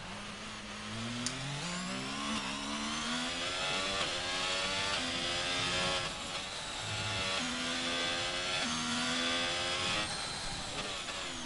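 Race car engines roar in a racing video game at the Circuit of the Americas, with rising and falling whines from several cars shifting gears and passing one after another, loud and continuous.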